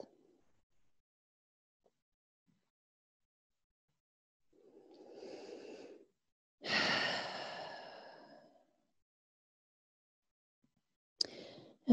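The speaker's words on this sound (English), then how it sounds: "Last round of breath." Deep breathing during a yoga session: a soft inhale, then a long audible sighing exhale through quiet surroundings, followed by a short breath sound near the end, close and alone.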